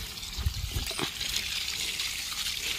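A small motor pump pours water into a farm field, giving a steady gushing, splashing flow close by, with a few louder splashes early on and no talking.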